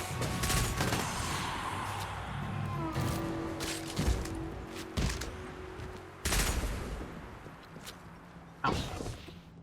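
Gunfire and grenade blasts in the Destiny Rising video game, with repeated sharp bursts and booming impacts scattered through a busy battle, some shots close and loud, others quicker and lighter.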